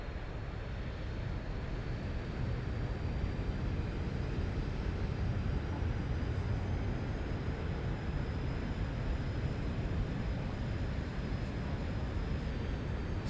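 A Zibo Boeing 737 airliner touches down in X-Plane 12, a continuous low engine roar and rumbling wind rush holding steady throughout, with no talking.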